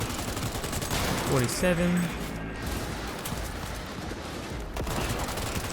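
Rapid gunfire from close-range fighting in the video game Cyberpunk 2077, a dense sustained burst of shots under a brief spoken number, then continuing noisy combat ambience.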